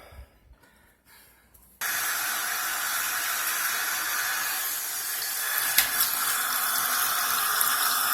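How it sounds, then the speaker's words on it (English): After a couple of quiet seconds, a waterfall faucet suddenly opens and water pours steadily into a vessel sink, a loud, continuous rushing splash. "Waterfall Faucet."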